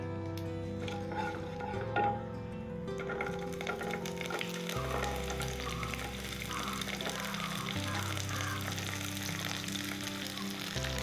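Chopped garlic sizzles steadily in a hot pan and is stirred, making a continuous close frying hiss with low, even tones running underneath, while a mushroom pepper fry is being cooked.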